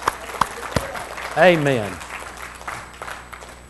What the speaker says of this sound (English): Let's give Jesus a hand clap.